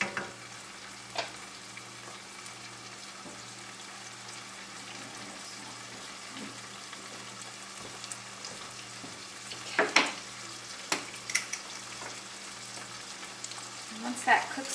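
Spinach and tomatoes sauté in a pan with a steady soft sizzle throughout, joined by a few brief scraping stirs and clinks near the end.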